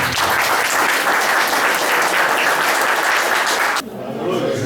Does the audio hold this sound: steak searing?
no